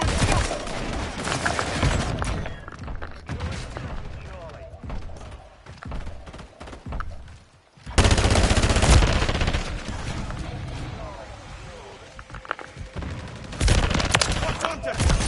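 Rapid bursts of automatic gunfire and heavy volleys in a Modern Warfare III match, loud and dense throughout, with a brief lull near the middle before firing resumes, mixed with game voice callouts.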